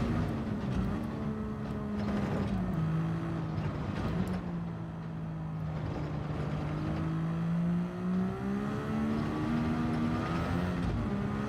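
Race car engine held at full throttle in a racing video game, a steady loud droning whine with slowly shifting pitch and brief dips, running continuously throughout.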